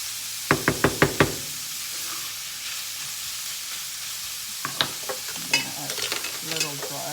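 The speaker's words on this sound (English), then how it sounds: "at this point, I let the onions fry a bit" Onions frying in oil in a pan for chili, a steady sizzle throughout, with a quick run of five sharp knocks near the start and more spoon scrapes and clatters of stirring toward the end.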